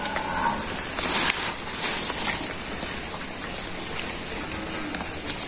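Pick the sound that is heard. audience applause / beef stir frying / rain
rain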